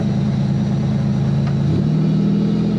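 Engine of a 1984 Pontiac Fiero race car running steadily, its low drone holding even before the pitch shifts and rises slightly near the end as the revs change, loud and close with no talk.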